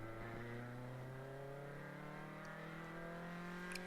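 A race car in a ChampCar endurance race at Oak Tree runs rough on a dropped cylinder, its steady droning engine note slowly climbing in pitch, faint and somewhat distant.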